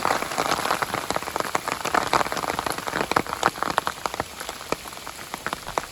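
Steady rain patters on a hard surface outdoors at a shrine, a dense continuous spatter of close drops with no one speaking.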